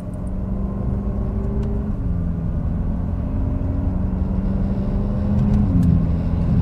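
A BMW F10 M5 accelerating hard, its engine a loud, steady, close roar that climbs in pitch and drops briefly at each quick gear change, two shifts in all.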